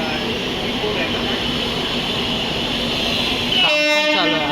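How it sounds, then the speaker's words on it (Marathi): A Vande Bharat train passes through a railway station with a loud, continuous rumble, and a sharp horn blast sounds near the end. "मगाशी गेली ती ना वंदे भारत ट्रेन होती"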